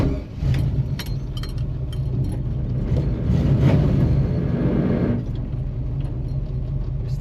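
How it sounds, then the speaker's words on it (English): A Chevrolet Nova on its first drive with a manual clutch and tires rubbing: a low, continuous engine and road rumble heard from inside the car, swelling mid-way then settling, with no speech. "Still have tire rubbing issues"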